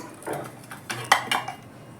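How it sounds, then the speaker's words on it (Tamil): A large metal tempering ladle clinks and taps against other metal a few times, short close knocks and scrapes over a quiet room. "இது தாளிக்கிற கரண்டியோட நல்லா பெருசாக இருக்குது"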